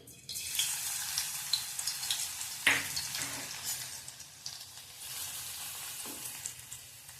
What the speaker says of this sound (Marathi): लसणाची आधी फोडणी देऊया खमंगाची